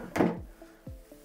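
Kitchen drawer in a Bruckmann Abaco 40 caravan sliding open or shut, a quick close wooden thump followed by a couple of faint knocks, brief and quiet.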